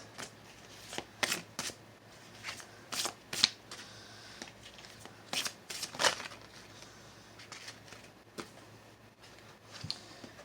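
Tarot cards are shuffled by hand in a quiet room, giving repeated quick riffling and flicking bursts at an uneven rhythm, close and fairly soft, with no talking.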